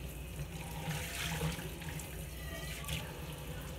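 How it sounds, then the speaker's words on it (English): A cleaned dish is rinsed under running tap water, giving a steady splashing flow with faint clinks against the sink. "I'm gonna rinse it and see how good it looks."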